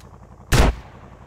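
A single loud shotgun blast in GTA San Andreas Definitive Edition, a sharp booming report that rings out briefly over a quiet game background.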